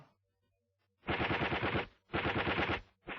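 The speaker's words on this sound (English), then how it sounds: "The enemy machine gun now opens fire" Enemy machine gun in a wartime infantry training film opening fire in long sustained bursts, two loud rattling volleys of about a second each with a third starting, after a near-silent lead-in.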